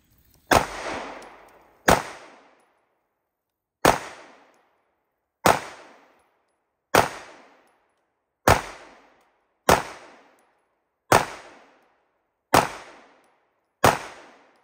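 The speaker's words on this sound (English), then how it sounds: "first shot, Staccato P. Go ahead and fire away." Staccato P pistol shots ring out on a range, ten sharp cracks spaced one to two seconds apart, each loud and close with a short echoing decay, no voices in between.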